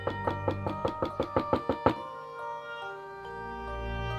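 Loud door knocking used as a horror podcast sound effect: about ten hard, evenly spaced raps in quick succession, followed by a lingering low, eerie tonal drone.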